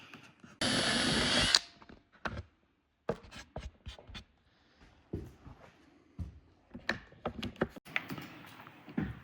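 A power drill with its bit in a hinge jig bores cup holes in a custom pantry cabinet door, one loud whirring burst lasting about a second, followed by scattered clicks, taps and handling knocks.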